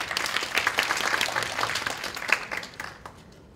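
Students and staff at a university fashion design lecture clap to welcome guests, a lively crowd applause that holds steady, then thins and fades to quiet.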